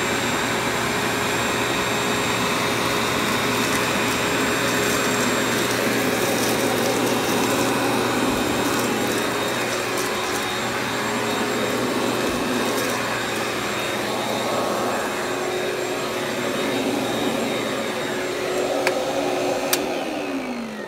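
A Panasonic Jet Flo vacuum cleaner runs on a bare floor, giving a loud, steady motor roar with a constant whine over a broad rushing airflow, unbroken across the whole stretch.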